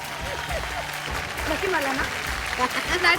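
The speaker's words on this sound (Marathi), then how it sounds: "जोरदार टाळ्या होऊन जाऊ दे" An audience claps throughout a lively Marathi television show, with a host talking loudly over the steady, moderately loud applause.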